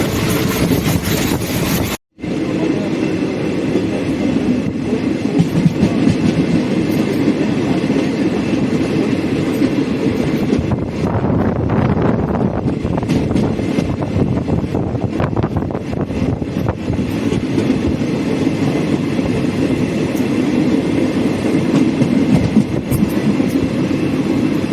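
A train rumbles steadily along the rails nearing Virudhunagar station, Tamil Nadu, on the Madurai–Tirunelveli line, with rhythmic clatter, loud and close throughout, with a brief dropout near the start.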